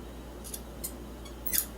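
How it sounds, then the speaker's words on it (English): Scissors snip the twine tails off the back of a woven rag rug trivet, giving three short, quiet cuts close by in an otherwise still room, the last one slightly louder. "We're going to trim those off."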